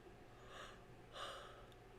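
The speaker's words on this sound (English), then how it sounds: "of course I had a yawn right there" A person yawns aloud with a breathy, drawn-out exhale, heard as two soft airy swells close to the microphone with no talking.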